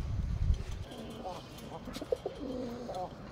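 A male pigeon gives soft, short coos in a few rhythmic bursts, close by and fairly quiet, with some low handling noise at the start.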